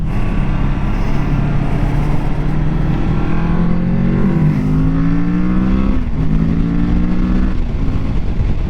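Engine of a Kawasaki Z650 motorcycle heard while riding, a loud continuous drone with the pitch climbing through gears and dropping at shifts, under heavy wind rush and no talk.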